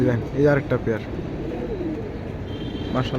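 Pigeons coo in soft, throaty pulses at a pigeon sale while someone speaks in Bengali over them, with a few nearby calls standing out and a busy background underneath.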